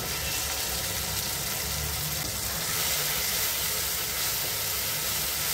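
Mustard paste fries in oil in a pan with tomatoes for a potato, aubergine and mourala fish curry, a loud, even, continuous sizzle and hiss with no pauses and no talking.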